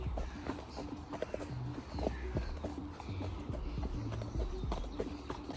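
A horse named Taz walks along outdoors, its hooves clip-clopping in a steady, moderately close rhythm with a few louder footfalls over a low, continuous rumble.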